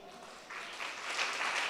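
A church congregation bursts into applause that quickly swells and holds as sustained, fairly distant clapping, with no speech over it.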